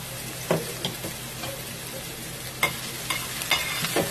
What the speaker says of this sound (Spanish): Le voy a poner aceite de oliva. El sartén ya está caliente. Le vamos a poner este la cebolla.